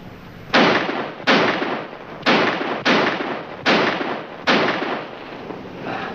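Six sharp handgun shots fired one after another into the ground, each a loud, close crack with a short decaying tail, spaced roughly a second apart in a steady rhythm.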